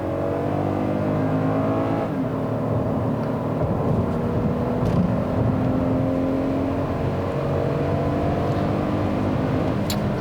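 A 2018 Toyota Highlander Limited with all-wheel drive accelerates hard from a stop in sport mode, its engine note rising steadily in a continuous, moderately loud hum heard from inside the cabin, with no talking.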